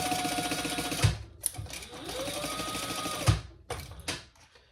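A sewing machine stitches a seam on a small sling bag in a steady mechanical whir, with short pauses and a couple of sharp clicks as the fabric is adjusted, and no one talking.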